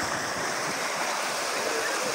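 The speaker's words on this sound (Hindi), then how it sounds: "अभी मैं आपको दिखा रहा हूँ कि पानी का फ्लो कितनी हद तक तेज़ हो चुका है" Fast-flowing floodwater of the Sutlej River rushing past a broken embankment in Bahawalpur district, a dense, steady roar that stays loud and unbroken throughout.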